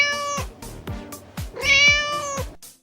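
A cat meows clearly several times close by, about five distinct calls with a longer, louder one near the end.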